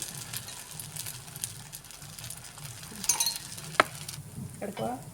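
Tapioca adai batter cooking on a pan over medium flame makes a soft, low sizzle, with a few light utensil clinks and stirring scrapes, quiet and close.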